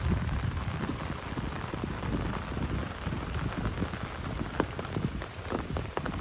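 Rain begins falling outdoors near a small earthen dam built for catching fish, a steady broadband patter with scattered sharper drops, fairly close and continuous throughout, no voices.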